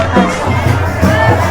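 A large crowd of devotees gathered for a Kunwari Mata procession makes a loud, continuous hubbub of many voices and shouts, with no single voice standing out.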